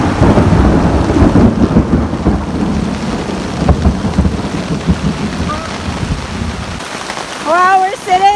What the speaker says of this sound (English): we're sitting in the shelter and there's like torrential downpours